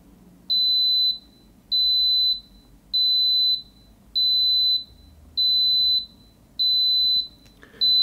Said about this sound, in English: Too many beeps, obviously.